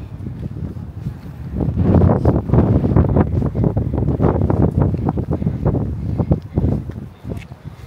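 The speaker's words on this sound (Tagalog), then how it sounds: "Kaya mahangin eh." Strong, cold wind in Edinburgh buffets the microphone in a steady, loud roar with gusty surges throughout, no voices heard.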